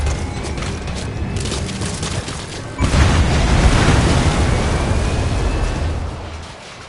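A separator tank exploding in the stealth game Metal Gear Solid 5, a sudden loud boom about halfway through that swells into a sustained, rumbling roar of fire and debris, then slowly fades.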